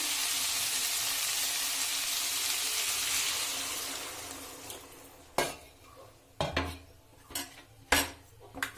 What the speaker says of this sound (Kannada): ಸ್ವಲ್ಪ ಜಾಸ್ತಿನೇ ನೀರು ಹಾಕ್ಕೊಂಡು ಬೇಯಿಸ್ಕೊಳ್ಳೋಣ